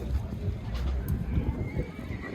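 A horse whinnies amid a noisy, rumbling outdoor livestock market in Kyzylorda, Kazakhstan, with faint hoof clops and distant voices.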